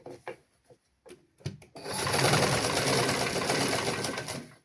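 An electric sewing machine stitching a lungi runs in a loud, continuous whirring burst after a few soft clicks and handling knocks as the cloth is positioned, then winds down at the end.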